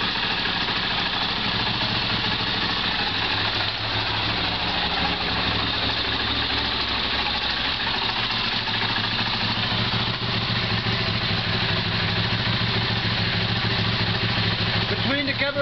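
A Honda CX500 motorcycle engine idles steadily after a carburetor install, running a little fast, with a loud, even mechanical drone that holds without a break throughout.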